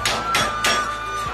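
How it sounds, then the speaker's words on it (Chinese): A round garlic bulb is struck flat with a cleaver on a kitchen board: three sharp, loud whacks at even spacing, close up, with a faint softer knock at the end. "把它拍破"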